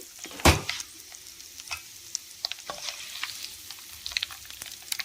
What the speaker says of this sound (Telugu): మినప్పప్పు వేగింది కదా ఇప్పుడు ఈ గోంగూరను అందుట్లో వేసేది